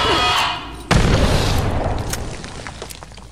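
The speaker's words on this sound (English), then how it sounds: "I'm gonna try a grenade." A grenade goes off in the video game Fallout 76, a sudden loud close boom that rolls into a fading rumble with scattered crackles.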